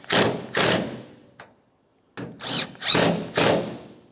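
Power tool whirring in short bursts while snugging up two 10mm tailgate mounting nuts on a 2004-2008 Ford F-150, several close, loud pulses with a brief pause in the middle.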